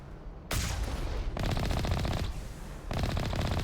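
Weapons fire rapidly in the video game Mass Effect, loud dense rattling bursts of automatic shooting, three close volleys split by very short pauses, with no talk over them.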